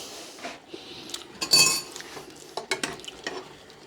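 A spoon stirs sweetened porridge in a pot, scraping and clinking against the sides in a few short, uneven bursts at close range, with the loudest scrape in the middle.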